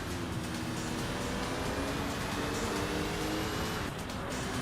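In Sega GT 2002, race cars including a CLK 430, a Corvette and a 350Z roar at full throttle in one loud, unbroken wall of engine noise with no pauses.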